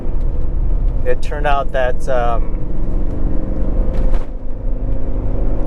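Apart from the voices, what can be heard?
1985 Porsche 928 S Euro engine running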